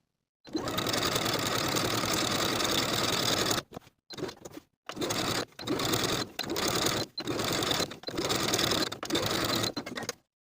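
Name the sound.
sewing machine sewing shirring with elastic bobbin thread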